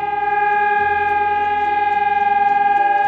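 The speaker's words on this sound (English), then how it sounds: "It's almost like an air raid siren." A loud, steady wailing siren in Vianden, Luxembourg holds one sustained tone with a slight pulsing waver, like an air raid warning, with no voices.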